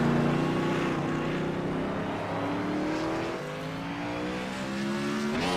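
Race cars in a Grid Finder Nostalgia Series sim racing video game, several engines droning together with rising and falling pitch as the cars accelerate, loud and continuous.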